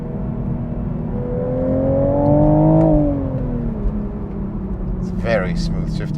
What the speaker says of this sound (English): Very smooth shifting transmission